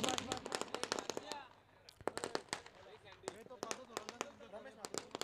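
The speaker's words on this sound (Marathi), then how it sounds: "आणि फटाक्यांची आतिषबाजी" Rapid, irregular firecracker bangs burst close by at a cricket match event, cracking and popping in dense clusters with a few louder reports, while voices talk underneath.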